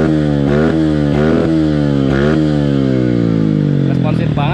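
A modified Yamaha Byson motorcycle engine revs loud and close in repeated rising blips, then a long climb in pitch at the end, with a faint voice underneath.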